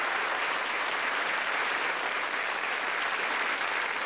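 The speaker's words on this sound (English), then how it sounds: "6 superb contestants. Give them a round of applause." A game show studio audience gives a steady, dense round of applause for the contestants on Bullseye. The clapping is loud and even, with no talking over it.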